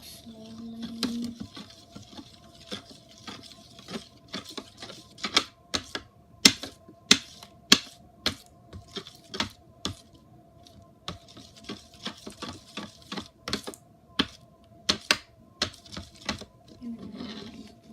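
Butter slime being mixed slowly, giving soft sticky clicks and pops at an irregular pace, close and fairly quiet with no talk.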